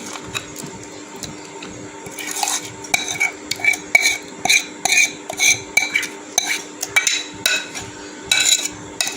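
Fish being coated with a homemade spice mix in a dish, a run of irregular scraping, clinking and wet rubbing sounds close by, with some quiet clatters of utensils against the dish.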